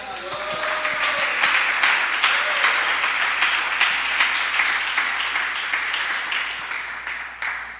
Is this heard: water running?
no